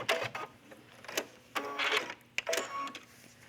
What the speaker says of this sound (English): let's get to the end and back stitch